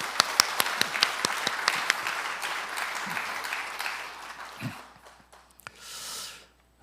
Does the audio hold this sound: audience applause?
yes